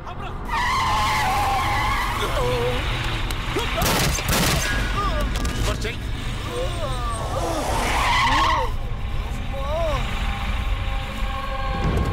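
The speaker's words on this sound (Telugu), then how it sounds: "సడన్ బ్రేక్ నొక్కు." A car brakes hard and skids on the road, with loud squealing tyres over engine roar and repeated screeching bursts, amid a chaotic chase scene with voices in the background.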